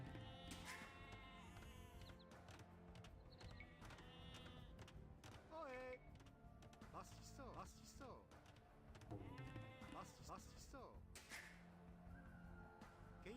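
Sheep bleat repeatedly in the video game Age of Empires 2, mixed into busy game sounds while a person talks over them throughout.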